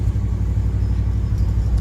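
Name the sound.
1959 Dodge truck driving on test drive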